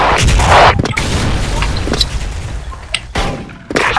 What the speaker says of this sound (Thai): ป้อมระเบิดไปแล้ว